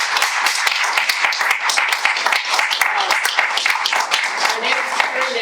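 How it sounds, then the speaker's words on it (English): An audience at a staged reading of a theatre production at Blue Barn gives a sustained round of applause, dense clapping filling the whole stretch at steady loudness with no speech over it. "Can we give a round of applause again for this amazing..."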